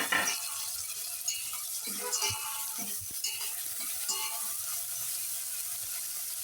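Chicken biryani masala with tomatoes and coriander gets stirred in a pan, giving soft scraping, clicking and sizzling sounds that repeat throughout, close and fairly quiet.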